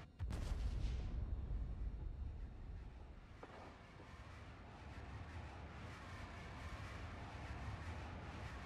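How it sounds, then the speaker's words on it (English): Booming explosions and dense battle noise roar continuously in the video game Coffee Cup: Cat & Mouse, with a loud blast at the start followed by sustained rumbling chaos. "Explosions right now."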